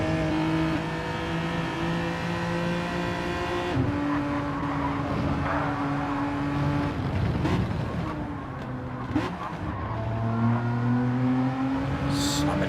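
Sim-racing cars in a league race, including a Mercedes CLK, droning and shifting down through the gears, engine pitch stepping downward repeatedly with overlapping cars nearby, loud and continuous with no talk.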